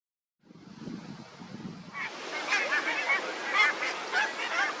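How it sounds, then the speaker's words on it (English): Barnacle geese honk on the grounds of Holkham Hall, a busy flock giving repeated overlapping calls at moderate distance over a steady wind-like background rush. "So here are all the deer and the Barnacle geese that I've got to get past to get back down to the hall."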